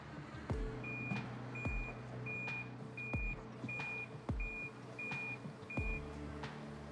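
A truck delivering a load of flat-packed timber reverses, its backup alarm sounding about eight evenly spaced beeps over the low engine rumble, with heavy thuds in between, moderately distant.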